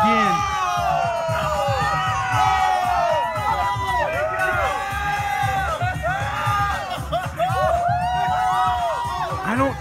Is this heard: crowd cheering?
yes